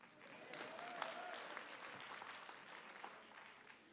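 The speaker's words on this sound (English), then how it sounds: "You can applaud now." Applause from the audience at an annual town meeting in a hall, a steady wash of many hands clapping that holds for several seconds at moderate volume without voices.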